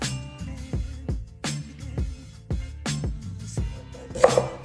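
An onion cut with a knife on a board: eight or so crisp, evenly spaced chops, close and clear with quiet gaps between, ending in a brief clatter.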